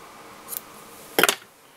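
Scissors snip through fly-tying material while a crayfish jig is tied, a faint first snip followed by a louder double-click cut close by.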